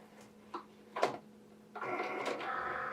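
A craft cutting machine takes in a cutting mat for a holiday throw pillow project, giving a few short clicks and bumps followed by a steady, close mechanical whirring hum of rollers feeding the mat.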